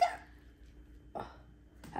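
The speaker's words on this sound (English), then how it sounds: "Had to burp." A single short burp close to the microphone at the start, followed by two quieter throaty bursts, in a quiet room during a slime-making session, with no talk.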